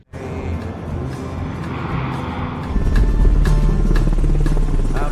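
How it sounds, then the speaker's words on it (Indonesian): A helicopter flies close, with a steady loud engine whine and rotor drone that swells and deepens partway through. "Kini pun terbang menggunakan helikopter"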